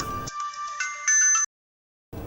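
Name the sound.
mobile phone ringtone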